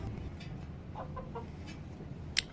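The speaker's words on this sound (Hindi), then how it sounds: "और ये रहे अपने मुर्गे" Roosters at a home coop give a few short, soft clucks in quick succession, fairly faint over a steady background hiss, with no talking.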